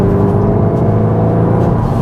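A Mk3 SEAT Leon Cupra in Cupra driving mode gives a loud, steady low engine and exhaust drone with a synthetic-sounding note, heard close up from inside the car.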